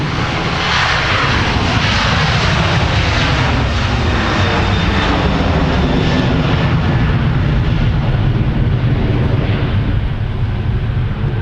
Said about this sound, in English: Sun Country headed off to Portland, Oregon with a 737-800 in the simplified titles livery